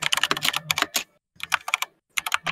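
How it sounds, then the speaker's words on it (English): Loud computer keyboard typing comes in quick clattering bursts of close keystrokes, separated by short pauses, with no voices. "Did you swap out your keyboard for a typewriter at any point in your life?"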